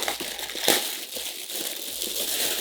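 A plastic bag from a football boot box, Adidas Predator Elite FT, being ripped open close by, with crinkly crushing bursts and one sharp tear partway through, no voices.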